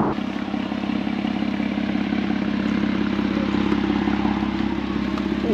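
A 2008 Porsche Cayman 987 with a naturally aspirated engine and loud exhaust, a steady, throbbing engine drone with a rough low pulse, held at fairly constant revs, heard close throughout with no talking.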